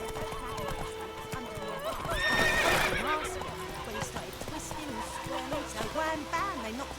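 Horse hooves clip-clopping and a loud neigh around the middle, from the video game The Witcher 3, heard under a voice and game dialogue.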